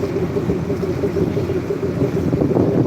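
Strong wind blows across a wide river at the Daulatdia–Paturia ferry ghat, a constant roaring rush with water and wave noise underneath and no pauses.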